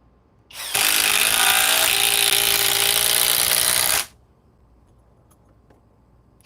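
A Kobalt power tool whirs at full speed for about three seconds, loud and close, with a steady high motor whine that starts abruptly and cuts off cleanly into quiet.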